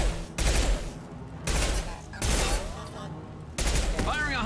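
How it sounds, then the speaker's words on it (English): High-impact gunfire in Mass Effect Legendary Edition, with four loud, heavy blasts of several seconds each, separated by short gaps, with a faint voice under the last one. "Firing a high-impact shot!"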